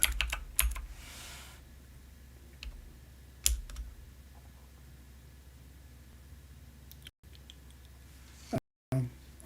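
Someone types one-fingered on a computer keyboard, giving a few scattered sharp key clicks and taps with long quiet gaps between them, close to the microphone.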